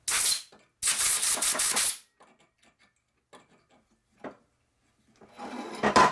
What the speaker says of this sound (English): I'm going to blow this hole out.